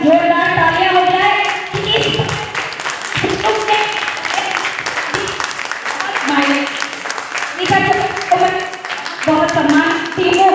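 Audience applause at a Mother's Day award ceremony honouring a woman, a loud crowd clapping in bursts with a voice speaking over it at intervals.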